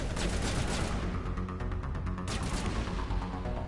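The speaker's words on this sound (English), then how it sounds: "Let's try this high explosive grenade." A high explosive grenade goes off in the video game Mass Effect, a loud dense burst of blast and crackling debris filling the whole moment, with rapid rattling bursts layered on top.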